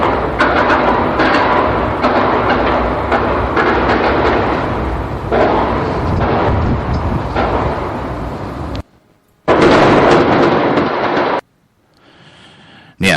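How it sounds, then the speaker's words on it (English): Continuous booming and rumbling blasts roll on, heavy and sustained, then cut out abruptly, with a brief burst returning before silence. "that is explosions"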